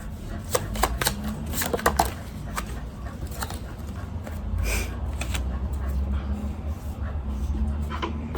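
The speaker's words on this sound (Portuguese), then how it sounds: "Deixa eu virar ela de novo e embaralhar." Tarot cards are shuffled by hand in a rapid series of crisp riffling slaps and flutters, close and fairly loud, with faint background noise.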